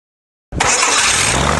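Aircraft propeller engine starting on a test stand: silence, then a sudden loud catch at about half a second that settles into a steady, close, continuous engine roar with no talking.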